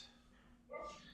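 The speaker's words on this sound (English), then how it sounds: "Sorry about the dogs in the background." A dog gives a short, faint bark in the background of a quiet room, one brief yelp standing out after a near-silent moment.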